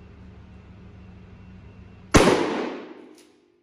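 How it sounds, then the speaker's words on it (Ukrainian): Shotgun fired with birdshot from 20 metres at tactical protective glasses, a single sharp blast after quiet, ringing and decaying over about a second. "Стріляти будемо з відстані 20 метрів дроб'ю."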